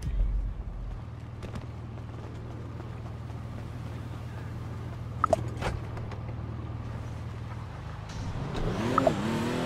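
A McLaren sports car in a driving video game idles with a steady low engine drone, then revs toward the end, its exhaust rising in pitch with a few sharp pops.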